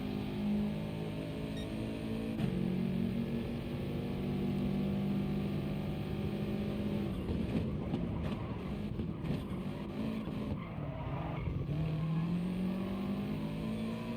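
A Subaru Impreza race car in Gran Turismo Sport on a wet track, its engine droning loud and steady throughout, with rising and falling revs and gear changes near the end.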